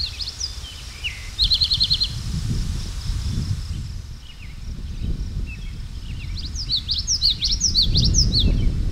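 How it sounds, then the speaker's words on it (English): Common yellowthroat birdsong over limestone pavement habitat, with short bright chirping phrases repeated several times against a steady low rumble of outdoor background noise. "Common yellowthroat is found here."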